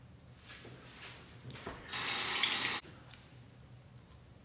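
A tap runs briefly to rinse a straight razor, a short, loud gush of water lasting under a second amid quiet rubbing and handling noises, with no speech.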